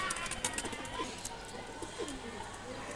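Pigeons of a fancy breed, kept for sale, cooing in low rolling calls at close range, with background clatter and a bit of human voice mixed in.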